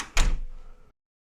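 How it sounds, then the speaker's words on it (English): A hotel room closet door at the Mayflower Hotel swings shut with a single close, solid thunk, followed by a brief rattle that fades quickly into silence. "As you close the door, it'll just pop off."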